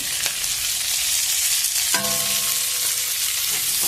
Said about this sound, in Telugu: ఇది కూడా కొద్దిసేపు ఫ్రై చేద్దాము